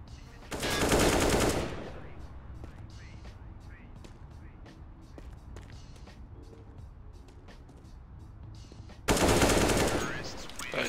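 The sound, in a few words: Desert Eagle pistol gunfire in a video game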